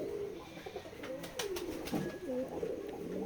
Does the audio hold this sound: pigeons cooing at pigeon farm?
yes